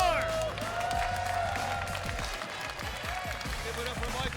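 Audience applause and cheering for the top eight players at a Combo Breaker 2025 Under Night In-Birth 2 fighting game tournament, a steady crowd roar with clapping throughout and a host's voice over it.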